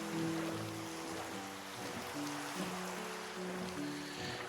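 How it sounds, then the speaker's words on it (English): Steady heavy rain in Minecraft, a dense broadband hiss of downpour running throughout under soft tonal music notes, with no talk. "the rain is really coming down"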